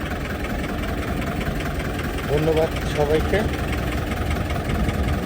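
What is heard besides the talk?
car engine idling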